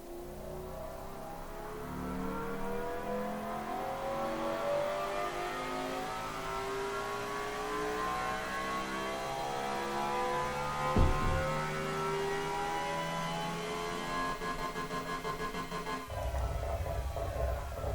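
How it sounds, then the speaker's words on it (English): A V12 supercar engine in the Automation racing game revs steadily upward, its loud whining harmonics climbing in pitch for the whole stretch. The tone dips briefly near the end and then picks up again, with no talk over it. "In the high RPMs, it actually really sounds like an old F1 car, doesn't it?"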